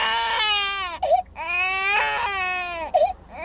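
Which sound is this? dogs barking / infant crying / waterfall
infant crying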